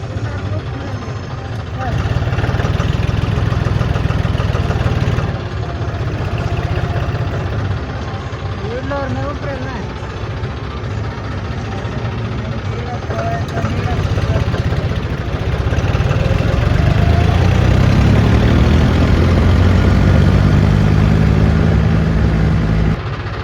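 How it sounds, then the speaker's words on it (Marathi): A loud engine rumbles steadily close by, its low drone rising and shifting as it revs toward the end. "चला आपण आपला ट्रॅक्टर घेऊ"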